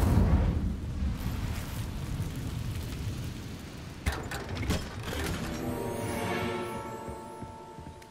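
A cast of the Incendio fire spell in Hogwarts Legacy produces a rumbling, whooshing burst of flame that swells, then gives way to sharp cracks and a crackling, ringing fade.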